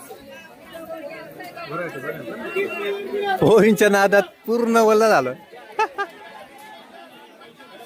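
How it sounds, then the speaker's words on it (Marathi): Dense chatter of a crowd fills the busy Pola bazaar in Mulher, with several voices talking over one another nearby and a couple of louder exclamations rising above the steady hubbub. "नुसती गर्दी"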